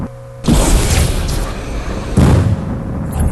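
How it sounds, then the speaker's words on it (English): Rocket shots and explosions in a video game duel: two loud booming blasts about two seconds apart, each followed by a rumbling tail, close and without talk. "TmG gets the next little rocket off there"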